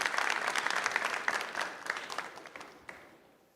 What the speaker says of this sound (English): A round of applause for him as he comes on stage as well.